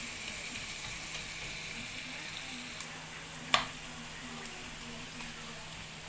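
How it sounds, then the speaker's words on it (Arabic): Onion frying in oil until crispy, for Egyptian koshari, sizzles steadily throughout with a faint low hum beneath and one sharp clack of a utensil midway. "عقبال ما انا اشوح البصله ديت عشان تبقى تقليه مقرمشه"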